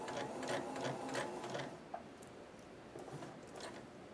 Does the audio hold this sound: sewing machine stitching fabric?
yes